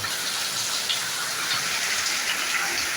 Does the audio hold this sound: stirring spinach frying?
no